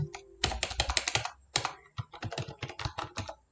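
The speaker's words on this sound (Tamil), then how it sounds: "ஸோ ஃபார் எக்ஸாம்பிள் நான் என்னோட நேம் டைப் பண்ணுறேன்" Typing on a computer keyboard, a close, brisk run of key clicks in two quick bursts separated by a short pause.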